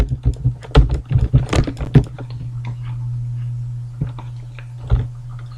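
Code is typed on a computer keyboard in a burst of quick, close key clicks, then slows to a few scattered taps over a steady low hum.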